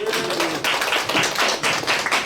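Audience applause at a Korean church forum, dense and continuous clapping with a broad wash of hands, moderately loud throughout.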